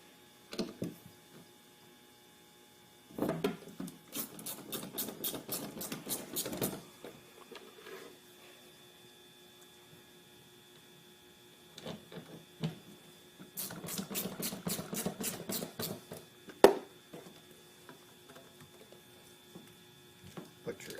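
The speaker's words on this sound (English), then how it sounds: "Okay, now we'll fasten that to the wall." Screws fastening a mount into a drywall wall are driven by a power tool in two whirring bursts of a few seconds each, separated by quieter handling sounds and soft talk.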